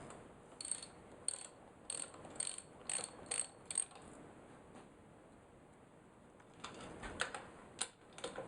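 A 10 millimeter socket ratchet loosening a bolt on a Yamaha XS650 cylinder head, with quick bursts of clicking pawl strokes in a steady rhythm, close and fairly quiet, pausing before a final run of faster clicks.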